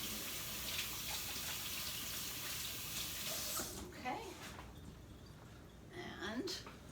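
Water runs steadily from a kitchen tap for a few seconds while rinsing during stack cooker meal prep, then cuts off, leaving quieter handling and splashing sounds.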